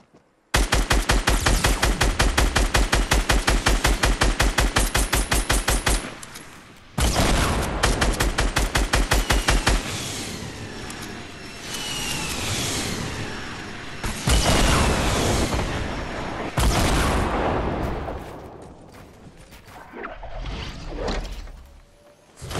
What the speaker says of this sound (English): This guy's getting shot from behind.